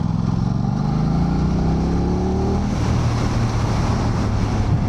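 A 2025 Aprilia RS660 Factory motorcycle engine drones steadily, rising in pitch through a quick gear change, with a rough burbling crackle from the exhaust; fairly loud, no talking.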